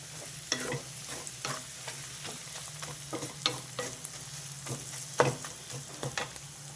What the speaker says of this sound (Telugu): ఇది వేగిపోవాలన్నమాట ఎగ్ క్రిస్పీగా అయిపోతుంది